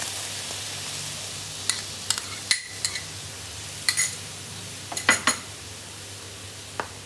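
Milk stirred in a hot pan for coconut ladoo, with a steady low cooking hiss under sparse metallic scrapes and clinks of a spoon against the pan, several small taps spaced irregularly.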